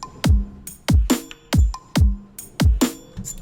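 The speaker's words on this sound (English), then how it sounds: "So with just the drums and the percussion, it sounds like this" A hybrid trap beat stripped down to drums and percussion: booming kicks with long pitch-dropping tails hit roughly every half second, with snappy snare and clap hits and short percussive ticks in between.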